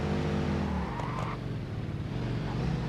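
A vehicle in the Satisfactory video game skids through a handbrake turn, its steady engine drone joined briefly by a thin tire squeal midway.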